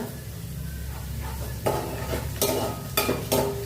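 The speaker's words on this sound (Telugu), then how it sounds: "మనకి ఇంకా ఆనియన్స్ చాలా వేగిపోయాయి" Onions sizzling in a pan for a drumstick tomato curry, a steady frying hiss punctuated by several bursts of stirring and scraping, close and fairly loud with no talk.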